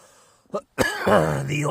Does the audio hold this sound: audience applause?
no